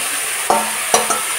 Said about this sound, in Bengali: মশলা কষানো হোক, আর তারপরে ঝোলও হয়ে যাক।